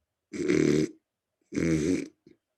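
Two long, rough nasal snorts from a human voice imitating a hippopotamus, close and loud, with a short pause between and a faint snuffle after.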